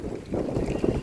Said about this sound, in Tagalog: lakas ang hangin, huh?